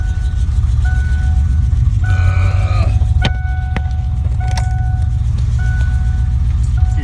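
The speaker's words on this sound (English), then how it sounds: "Keys off, car will not turn off." A 1988 Mustang GT engine keeps idling after the key is turned off, a steady loud low rumble throughout, with a couple of sharp clicks and brief tonal whines over it.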